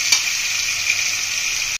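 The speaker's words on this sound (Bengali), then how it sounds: "মশলাটা দিয়ে কষা হচ্ছে" Spices sizzle and fry in a hot pan while chana dal pulao is cooked, a steady bright crackling hiss, close and continuous, with a faint clink near the start before it cuts off.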